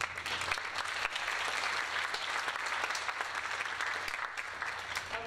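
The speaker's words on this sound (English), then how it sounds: "I just want to give a big round of applause for our art staff." Audience applause for the art staff at a high school spring student art show, dense continuous clapping from a crowd, fairly distant and even in level throughout.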